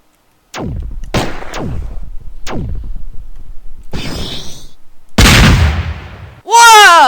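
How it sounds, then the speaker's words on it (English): Rocket launcher fire in the video game Raze 3: a rapid series of sharp booming blasts with short decaying tails, then a longer, louder explosion, and a brief voice at the end. "How did one rocket kill me as well?"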